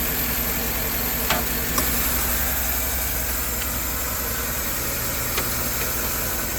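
A 2007-14 GM truck engine idles steadily nearby, cold, with a low, even rumble and faint knocking, plus a few sharp clicks, and nobody speaks.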